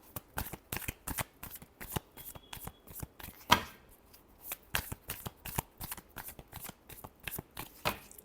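Tarot cards shuffled by hand in a steady, rapid rhythm of crisp riffling bursts, close and fairly quiet, with one sharper snap partway through and no talking.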